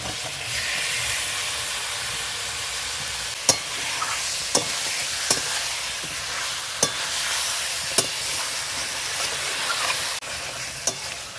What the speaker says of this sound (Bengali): আমি এই চিকেনটাকে এখন এই মশলার সঙ্গে ভালো করে নাড়াচাড়া করে নিলাম।